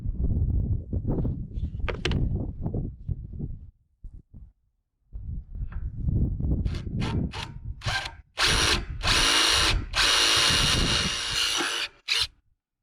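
Low rumbling handling noises, then a power drill with a Milwaukee brad point impact-rated bit whirs loudly and close in several bursts while repairing a gas air compressor, cutting in and out near the end.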